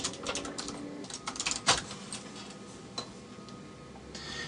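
Keys clatter quickly on a computer keyboard, a faint, close run of irregular clicks with brief pauses.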